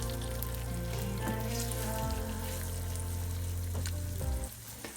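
Eggs frying over easy in a pan give a loud, continuous close sizzle and crackle with a steady hiss throughout and a brief shift near the end, with no talking.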